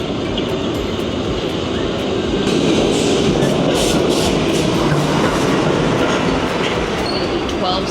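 Steady loud rumble and rattle of a New York City subway train in motion, broadband roar continuing throughout with faint high squeals, no talking.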